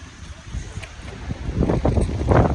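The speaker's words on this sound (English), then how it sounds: "Ooh, it's windy." Steady wind buffets the microphone with low rumbling gusts that grow stronger toward the end, outdoors.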